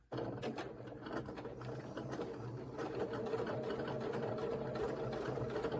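A sewing machine stitches a quilt block along a marked line, a soft, steady mechanical whir with fine rapid ticking that runs continuously and fairly quietly from start to end, with no voices.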